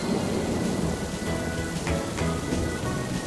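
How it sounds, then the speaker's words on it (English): Cartoon sound effect: steady heavy rain pours down while low thunder rumbles underneath, dense and continuous throughout. "It's raining, and Peppa spots her rainbow umbrella."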